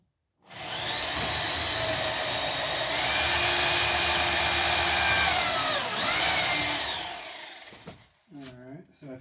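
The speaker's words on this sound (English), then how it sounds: "I felt the drill go into the spacer" A power drill whines loudly and steadily as it bores through a wooden boat plank into a spacer while building an Alpha Beachcomber, its pitch sagging under load before it stops, followed by brief speech.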